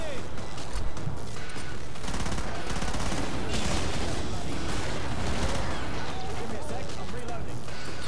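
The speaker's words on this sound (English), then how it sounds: "I'm just gonna throw down some random pipe bombs and hopefully I don't die before I get back up" Pipe bomb blasts and rapid gunfire in the video game Killing Floor, a dense, loud barrage of shots and explosions running throughout with voices talking over it.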